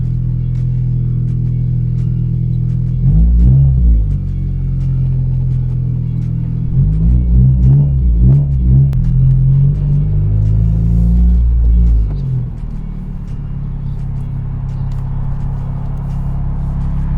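Tenth-generation Honda Civic Si fitted with a PRL V2 intercooler, heard from inside as a loud low engine rumble that rises in two separate revving pulls with gear-change dips, then eases back to a steady cruise drone.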